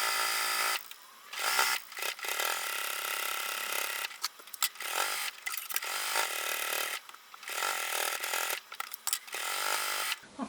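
A sewing machine stitching a quilted, almost boxed zippered pouch, running in several loud, close buzzing bursts of stitching separated by brief pauses.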